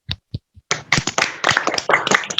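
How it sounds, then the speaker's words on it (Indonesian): Classroom applause from a group of students, preceded by a few isolated claps, then a dense burst of clapping that carries on steadily to the end without any talk. "Tepuk tangan untuk kita semua."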